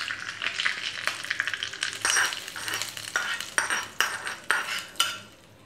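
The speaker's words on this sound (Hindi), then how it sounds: "अब हम इसमें कड़ी पत्ता डालेंगे और गेट बंद कर देंगे और इसे अब हम इस तड़के को चटनी में डालेंगे" Hot curry-leaf tempering for coconut chutney sizzles and crackles steadily, with sharp spattering pops and a few loud bursts as it is poured into the chutney, close and without voices.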